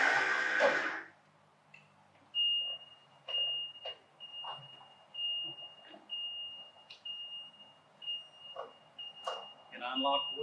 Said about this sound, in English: you're going to hear the alarm going off, letting us know that the ramp's connected and ready to take the client off of